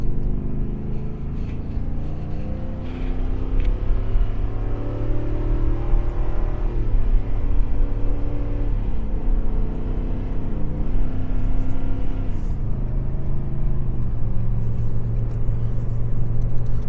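A Ford 7.3-litre gasoline V8 engine drones loud and close, its deep rumble rising steadily as the vehicle accelerates onto the freeway.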